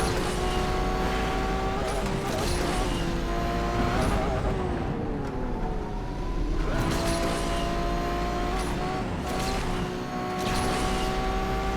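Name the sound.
Lamborghini Revuelto engine racing, Asphalt 8 video game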